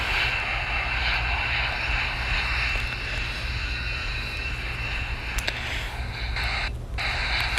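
A Lufthansa CRJ jet rolls for takeoff in a flight simulator game, its engine a steady, even roar with a low rumble that holds throughout, broken only by a couple of faint clicks near the end.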